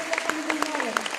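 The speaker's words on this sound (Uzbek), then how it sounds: "Olqishlar" Applause at an opening ceremony and film premiere, a brief burst of scattered clapping from an audience with voices mixed in.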